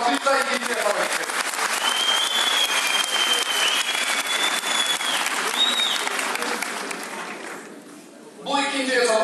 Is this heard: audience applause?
yes